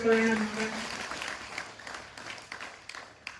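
An audience at a village panchayat function for students bursts into applause, a voice briefly heard at the start before dense clapping carries on and slowly tapers.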